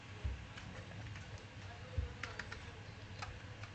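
Keys tapped on a computer keyboard while filling in an online payment form, a few soft clicks with a couple of louder taps, faint and close, over a low room hum.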